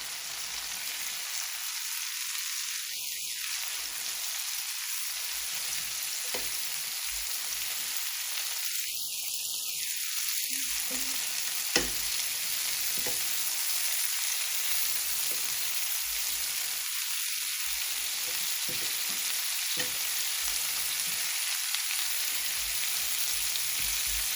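Shrimp stir-fried in butter in a pan: a steady loud sizzle and crackle fills the whole stretch, with occasional scrapes of stirring and no talk.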